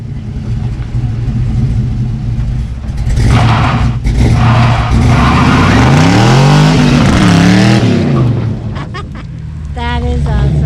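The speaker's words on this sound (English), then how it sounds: "We got to do some burnouts." A 1971 Chevy Camaro does burnouts, a loud engine roar that swells and revs hard with rising and falling pitch sweeps, then eases off before surging again near the end.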